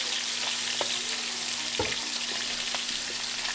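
Meat frying in olive oil with garlic, a steady broadband sizzle running throughout with a few faint clicks of utensils, close and even.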